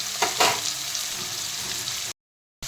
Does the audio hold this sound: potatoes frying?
yes